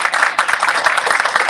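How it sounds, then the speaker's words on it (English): Audience applause at a bill signing for a state senator, a dense burst of many hands clapping at moderate distance, brief and steady. "She deserves a round of applause for that."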